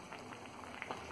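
Green papaya pieces simmer in plain water over low heat, a soft, steady bubbling with faint scattered pops, close and quiet with no voices.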